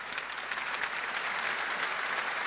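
An audience at a church gathering applauds in a steady, dense patter of many hands, fairly distant and even in level, with no voices standing out.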